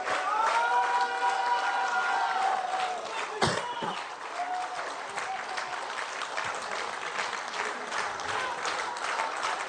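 An outdoor crowd at a political speech applauds, a dense close patter of clapping that swells at first, then eases off to a thinner, steady applause with a sharp knock partway through.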